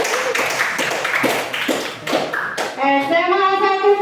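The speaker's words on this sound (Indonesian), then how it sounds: "Tepuk tangan dulu untuk Rehan." Classmates applaud a student in a school classroom, a ragged burst of close hand clapping and taps with shuffling, fading out as a voice and steady tones take over near the end.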